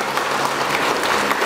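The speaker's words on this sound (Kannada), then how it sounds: "ಎಲ್ಲರಿಗೂ ಕೂಡ ಒಂದು ಸರಿ ಜೋರಾದ ಚಪ್ಪಾಳೆ ಬರಲಿ" Loud, dense applause from the audience at a pre-school annual day celebration, continuous hand clapping holding steady throughout with no voices over it.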